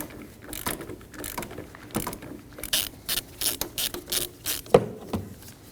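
A ratchet on an E10 socket tightens an engine mount fastener on a 2014-2023 Ford Transit Connect 2.5L L4, giving a close run of rapid clicking bursts with short pauses in between.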